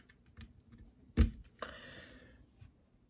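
Lubed Outemu keyboard switches fitted with NovelKeys Blueberry stems are typed on, giving a few soft keystrokes and one sharper, louder clack near the middle. The strikes are sparse and close, and the room is otherwise quiet.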